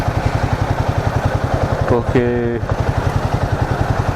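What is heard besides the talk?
Royal Enfield Himalayan 450 motorcycle riding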